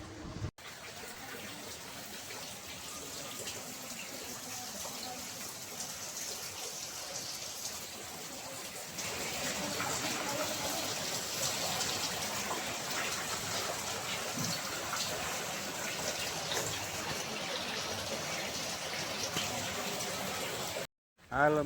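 Light rain falls outdoors as a steady, soft hiss that thickens slightly partway through and carries on without a break.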